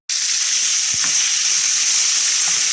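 Oil hitting a hot pan on the stove, a loud, steady hiss that starts abruptly and holds evenly close by, with a faint tap in the middle.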